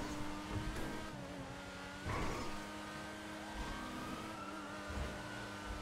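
A stolen car is driven fast in a video game, its engine humming and revving steadily for the whole stretch, with a brief louder surge partway through and no voices.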